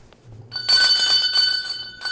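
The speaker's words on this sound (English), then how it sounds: "So ring the bell for Ian" A bicycle bell rings in a quick flurry of bright, metallic dings, loud and close, following a brief low murmur, then cuts off before one last ding.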